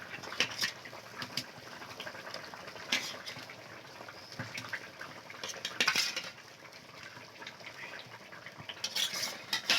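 Fried fish going into a boiling curry in a pot, with irregular clanks of a utensil against metal, stirring scrapes and a soft bubbling underneath.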